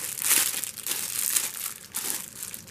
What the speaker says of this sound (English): And get the watch band out here. Come in these long plastic bags.